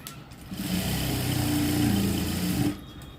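An electric sewing machine runs steadily for about two seconds, stitching back tucks on a prince-cut blouse. The close, even motor whir starts and stops abruptly, with no talking.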